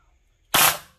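A single sharp shot from an airsoft Steyr AUG with a version 3 gearbox and MOSFET installed, a loud close snap that decays quickly after a silent lead-in.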